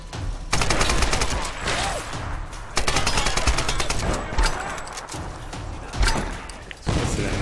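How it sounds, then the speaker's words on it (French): Grenade launcher firing in the Tomb Raider video game, loud, dense bursts of explosive game gunfire that keep going across the stretch with brief dips between them, with no talking over it. "ça lance des vraies grenades, c'est bizarre ça"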